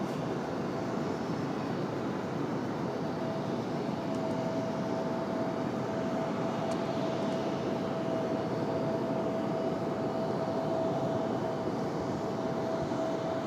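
A JetBlue jet airliner taxis at Raleigh-Durham International, a constant broad engine rumble with a thin steady whine, held evenly throughout with no talk.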